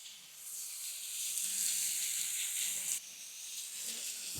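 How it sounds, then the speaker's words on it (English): Bacon frying in a pan on a pancake griddle, a loud, steady, bright sizzle and hiss up close that swells slightly and dips once near the end. "we're going to chuck our bacon on, get that nearly cooked"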